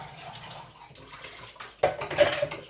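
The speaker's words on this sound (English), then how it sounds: "Just washed out the can" Water splashing and swishing inside an empty metal baked bean can as it is rinsed, starting softly and turning louder and more agitated toward the end, with faint clinks of the tin.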